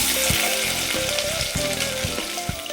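Onions dropped into hot oil for kaju paneer curry, frying with a constant close crackling sizzle, punctuated by a few low knocks and stirring thumps.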